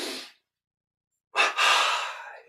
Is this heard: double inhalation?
yes